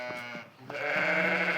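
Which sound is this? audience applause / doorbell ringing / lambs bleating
lambs bleating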